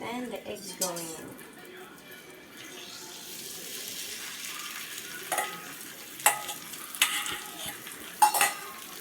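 Eggs for a soft, large-curd scramble being stirred and scraped in a foaming pan, with a gentle sizzle throughout and sharp clinks of a utensil against the pan near the end; a voice briefly talks at the start.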